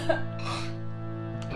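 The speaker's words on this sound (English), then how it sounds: "So when we start an actual chant practice, I like to clear my throat." A woman clears her throat before a chant practice, giving a short rasping, breathy sound with a hum-like voiced tone underneath, close and fairly quiet.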